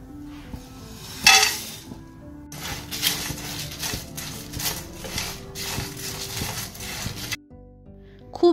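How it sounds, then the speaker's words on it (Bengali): Cashews, spices and bay leaves dry roasting in a pan at home, with soft sizzling, stirring scrapes and light clinks against the pan, continuous and close, with a brief louder burst near the start. "এই কটা জিনিস ড্রাই রোস্ট করব।"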